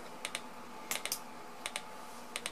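A speaker driven by a 555 timer in astable mode with a light-dependent resistor gives sharp, quiet clicks in irregular pairs and clusters over a faint background hiss.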